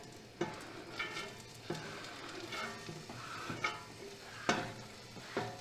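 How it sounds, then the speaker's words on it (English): Celery and onions sizzle in a hot pan with garlic, a steady frying hiss broken by a few sharp scraping stirs at regular intervals, close and moderately loud, with no talking. "And we can add our celery. And we can add our onions."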